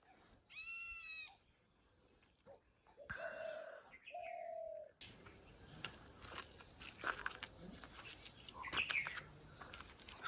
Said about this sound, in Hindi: सुबह के 5 बज चुके हैं और सारी चिड़ियाँ उठ चुकी हैं।